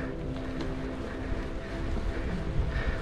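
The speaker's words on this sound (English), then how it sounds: "Oh, I'm right into a headwind today." Headwind noise buffets the microphone while mountain biking on the Kirkhill trails, a steady low rumbling roar that swells slightly toward the end, with no talk.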